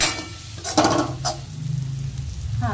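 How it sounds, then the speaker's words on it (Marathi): A utensil stirs and scrapes through salt and turmeric in a pan of green chillies, with brief clinks and a soft frying hiss underneath. "व्यवस्थित असं हलवून घेऊया"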